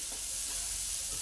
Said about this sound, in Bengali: নুনটা দিয়ে আবারও ভালোভাবে শাকটাকে ভেজে নেব।